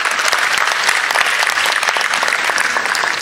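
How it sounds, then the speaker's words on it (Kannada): An audience gives loud, sustained applause for Hemavathi Hegde at the close of the 2019 staging of the drama Barbarika. The clapping is thick and even, with no pauses. "ಅವರಿಗೆ ದೊಡ್ಡ ಚಪ್ಪಾಳೆ ಮೂಲಕ"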